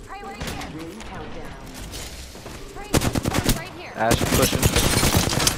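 Video game gunfire, sparse shots under a voice at first, then loud rapid bursts of automatic fire in two clusters, close and punchy, with a person talking over it.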